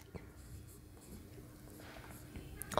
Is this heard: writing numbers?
yes